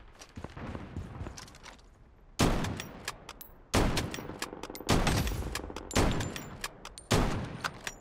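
Bursts of gunfire in the mobile FPS Project Bloodstrike: several loud, sharp volleys about a second apart, fired up close after a quieter stretch of distant shots and movement.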